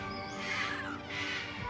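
Aged rescued parrots at a parrot rescue let out two faint, rasping squawks about half a second apart, heard at a distance over a steady background hum.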